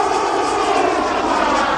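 Jet ultralight aircraft passing at an airshow, a loud continuous broadband engine roar holding steady throughout with no talk over it.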